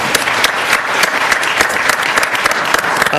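A panel audience at a New Jersey disparity study event at NJIT applauds an introduced panelist, a New Jersey State Hispanic Chamber of Commerce leader, with steady, loud, dense clapping that fills the room throughout.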